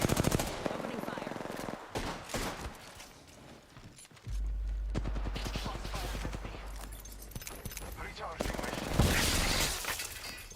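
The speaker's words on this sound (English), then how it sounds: "Opening fire." Bursts of automatic fire from a squad firefight in Apex Legends crackle at moderate volume, with a sustained rattling stretch after a brief lull and sharp impacts near the end, while voices talk over much of it.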